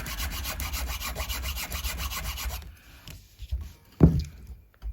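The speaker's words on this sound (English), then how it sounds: "we'll cut off all the rest of the unnecessary surplus nut." Hand file rasping across the surplus bone of a guitar nut on an early vintage left-handed Strat, a steady close scraping rhythm for several seconds before tapering into a few sparse scrapes and a sharp knock.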